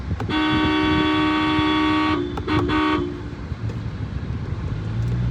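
Loud, steady car horn from a Mahindra Scorpio N, one long toot of about two seconds followed by two short beeps, sounding close over road and engine noise.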